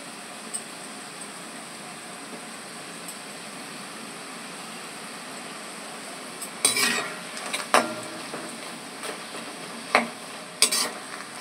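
Pieces of dough frying in hot oil in a pan, a soft continuous sizzle with a few sharp clinks of a utensil against the pan toward the end.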